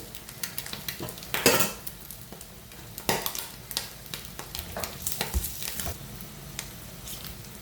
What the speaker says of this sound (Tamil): முட்டை வந்து நல்ல வடிவாக பொறிஞ்சிட்டு இருக்குது